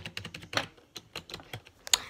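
Keys clicking on a new gaming keyboard in an irregular run of sharp, close taps and presses, with a louder clack near the end.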